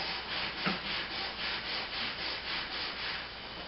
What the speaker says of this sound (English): Take another wood piece and I want you to rub it across the abranet backwards and forwards several times.